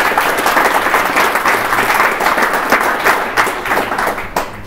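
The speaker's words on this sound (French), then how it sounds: "Et un gros applaudissement pour toutes ces personnes qui ont aidé de près ou de loin le projet." A crowd at a Shift Day event in Lausanne gives a big round of applause for the project's helpers: loud, continuous clapping from many people, close and full, fading slightly toward the end, with no speech over it.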